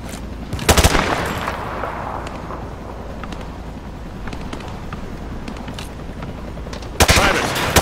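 Gunshots fired through a wood panel in Call of Duty: Modern Warfare 2, sharp loud bursts near the start and again near the end with a rumbling tail and scattered smaller impacts between.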